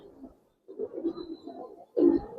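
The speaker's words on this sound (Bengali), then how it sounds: "একটু ছাইরা দেখাই কবুতর দুইটা" Giribaz coloring pigeons at a pigeon farm coo close by in short, throaty bursts separated by pauses, with the last burst the loudest.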